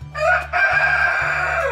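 A Light Sussex hen on a farm gives a loud, drawn-out squawking call, close by and alone, with a brief break partway before the cry carries on over a low steady hum.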